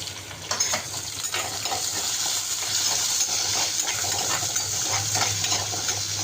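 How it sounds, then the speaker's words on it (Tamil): Garlic and onions sauté in a hot pan for a Tamil fish kuzhambu, a steady close sizzle with occasional stirring scrapes running the whole time, no voices. "வெள்ளைப்பூடை போட்டு வதக்குறோம். அப்புறம் வெங்காயத்தை போடுறோம்."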